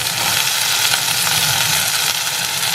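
Flat beans, potato and eggplant fry together with onion and chili, giving a steady, even sizzling hiss that runs unbroken throughout, with no voices over it.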